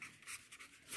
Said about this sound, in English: Now I will write